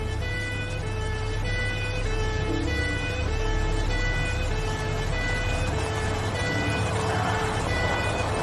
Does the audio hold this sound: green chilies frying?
no